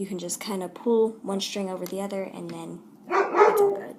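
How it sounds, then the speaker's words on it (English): A dog barks a quick series of sharp yaps close by, mixed in with a person talking over it. "I'm sorry about my terrible dog."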